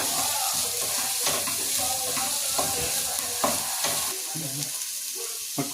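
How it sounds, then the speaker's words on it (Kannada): Food sizzles in a hot pan while a utensil stirs it, giving steady frying hiss broken by irregular scraping and clinking strokes at close range. "ಅದು ಸ್ವಲ್ಪ ಫ್ರೈ ಮಾಡ್ತಾರೆ ಈಗ"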